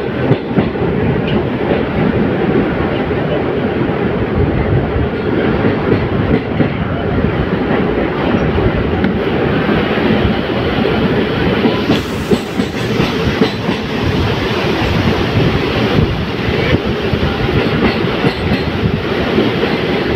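The Teesta Torsa Express rolls along the rails with a loud, unbroken rumble and rattling wheel clatter that carries on steadily throughout.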